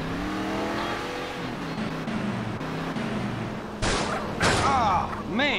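A car engine in GTA San Andreas Definitive Edition drones and revs steadily for several seconds, loud and close, with sharp bangs near the end.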